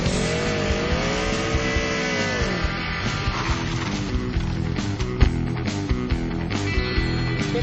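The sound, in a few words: car engine revving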